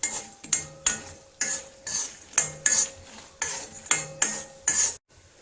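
Karela (bitter gourd) leaves roast in a pan while a metal utensil stirs them, scraping and clinking in a regular rhythm of about ten strokes, close and clear, with no talk.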